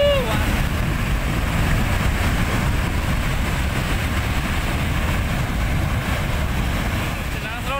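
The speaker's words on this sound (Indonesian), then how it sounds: "banjir lahar Gunung Semeru menerjang aliran sungai Besuk Lanang pada Kamis sore" Lahar flood from Mount Semeru rushing down the Besuk Lanang river channel, a loud, steady roar of churning water and debris with heavy low rumble and wind buffeting, continuous throughout with no voices.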